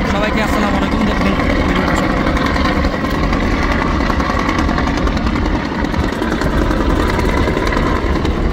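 Engine of the Dolpakhi 10 passenger launch under way from Sadarghat toward Ilisha, Bhola: a loud, steady, dense mechanical drone and rumble that runs unbroken throughout, with a faint mix of voices beneath it.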